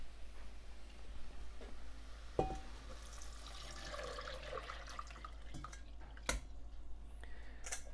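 Water for hummus runs and splashes into a metal pot, a steady gurgling pour with a few sharp clinks of the container.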